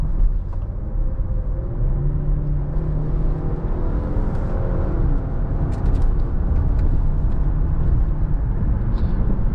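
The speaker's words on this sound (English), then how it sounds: "We're gonna hop out onto the highway here just to see a little bit of some handling and acceleration" A 2024 Range Rover Evoque Dynamic SE accelerates onto a highway, giving a steady, loud low engine and road rumble heard from inside the cabin, with a rising engine note early on.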